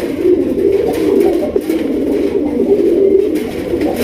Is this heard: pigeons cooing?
yes